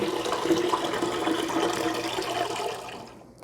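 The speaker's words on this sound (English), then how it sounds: "when I drain this brine, I like to put it in the sink" Sugar pickle brine pouring from a pot down a kitchen sink, a steady close rushing splash of liquid that tapers off and stops at the end.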